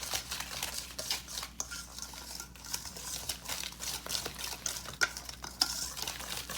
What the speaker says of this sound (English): You want to beat the mixture until the big lumps are gone